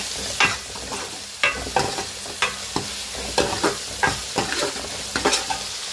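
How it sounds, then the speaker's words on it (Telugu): Ginger garlic paste fries in a pan while being mixed, a continuous sizzle punctuated by repeated sharp scrapes and knocks of the spoon, close and fairly loud, no voices. "ఈ అల్లం వెల్లుల్లి పేస్ట్ కూడా పచ్చి వాసన పోయేంత వరకు ఫ్రై చేసేసుకుని ఇప్పుడు మొత్తం కలిపేసుకోవాలి"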